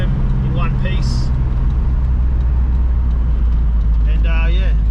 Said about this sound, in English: All I can hear is turbo whistle.